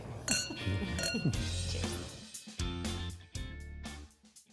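Wine glasses clink together in a toast, several bright ringing chinks in quick succession over a busy background with faint talk, loud and close.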